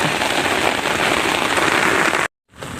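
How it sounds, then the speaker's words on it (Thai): Steady heavy rain pours onto a canal while fishing, a dense constant hiss of drops that cuts out abruptly near the end before resuming. "รอฝนหยุดจ้ะ"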